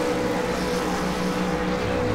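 V8 Supercar race car engines rev together on the grid at the Montreal round just before the start, forming a loud, dense, continuous roar with a low drone that holds steady throughout.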